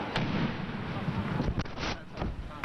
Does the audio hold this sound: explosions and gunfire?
yes